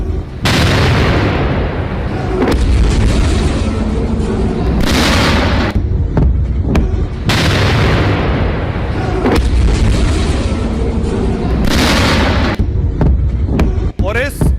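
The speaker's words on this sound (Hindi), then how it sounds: "एक के बाद एक मिसाइल हमले हुए" Iranian missile strikes hitting an Israeli airbase, loud heavy booms and rumbling blasts that repeat in waves, each followed by a long roar, with talk running underneath.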